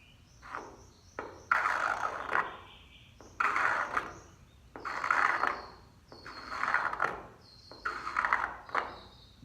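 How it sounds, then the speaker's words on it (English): A Festool paint nib and run remover, held flat, scrapes down a sagging paint run in five evenly spaced, close-up strokes, each a short rasping pass with brief pauses between, and no voices. "Basically, they say just hold it flat and then just scrape down"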